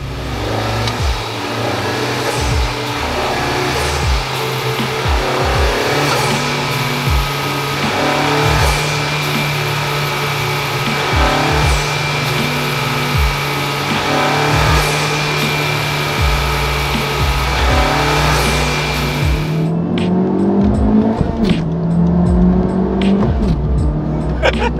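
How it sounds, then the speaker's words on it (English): Engine of a 2018 Honda Civic Type R FK8 drones steadily under load as the car accelerates on the road, with a sustained tone that shifts pitch near the end as gears change. "I think the car sounds good at stock."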